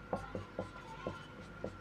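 A teacher writes on a board during a Class 10 maths lesson on polynomials: about five short scratchy strokes at an uneven pace, close and fairly quiet, with no talking.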